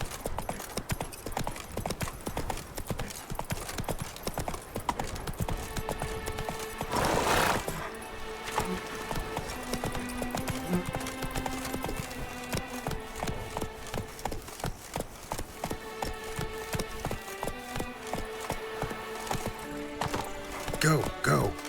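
Hooves of a horse galloping in The Witcher 3 clatter in a quick, steady clip-clop rhythm throughout, with a whinny-like burst and game music and sounds mixed in.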